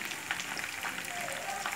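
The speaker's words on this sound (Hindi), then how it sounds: "चलिए इसको अब मैं फ्राई करती हूँ सबको।" Sheekh kebabs deep fry in oil with a soft, even crackle and sizzle, faint and continuous throughout.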